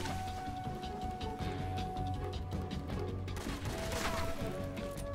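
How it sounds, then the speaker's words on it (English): Gunfire in the video game Metal Gear Solid 3, scattered shots and impacts over a busy game backdrop with a steady hum. "What's the shooting with?"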